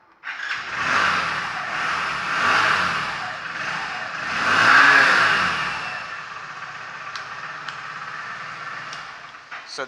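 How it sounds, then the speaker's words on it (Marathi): A Hero Splendour Plus Xtec 2.0 motorcycle started inside a showroom, its engine catching and idling with a few rising revs that swell and fade, the room echoing around it. "तुम्हाला आता स्टार्ट करून दाखवतो गाडीला."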